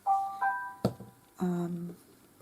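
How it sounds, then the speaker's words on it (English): A mobile phone sounds a short alert tone in a quiet room during snowman ornament crafting, a few clear electronic beeps followed by a lower tonal chime, with no speech. "That was my phone just before, just in case you're wondering."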